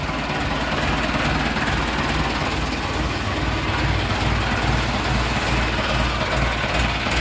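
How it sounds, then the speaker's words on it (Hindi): A tractor engine runs steadily at close range, a loud continuous rumble with a rough, knocking idle texture that holds unchanged throughout, with no talking. "आवाज सुनिए, बहुत दबंग ट्रैक्टर है।"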